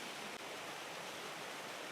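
A waterfall roars in a steady, broadband rush, filling the whole clip at an even level. No voices are heard.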